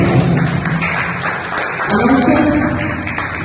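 Steady, loud applause from an audience welcoming guests at a school science and innovation program, a dense continuous patter of clapping hands throughout with no pauses.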